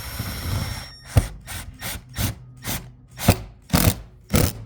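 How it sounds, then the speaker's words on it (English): A power drill drives screws through the metal track flanges of an RV's TPO roof in a series of about eight short, evenly spaced bursts, each a sharp close whirring grind with brief pauses between. "I'm going to use the right-headed screw for these flanges because we're going to go through the metal track right there."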